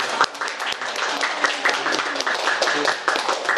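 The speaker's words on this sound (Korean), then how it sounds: "박수 한번 치고" An audience claps at the close of a book talk with a poet, a dense steady patter of many hands filling the room, with a voice faintly underneath.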